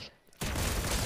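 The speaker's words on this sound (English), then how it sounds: "Someone is shooting us." Rapid gunfire in a Fortnite Zero Build battle royale match, a loud burst of sustained shots erupting suddenly after a brief quiet moment and continuing without pause.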